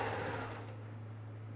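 Sewing machine stitching the last piece of a Dresden plate quilt circle, a steady low motor hum with faint rapid needle chatter that fades toward the end.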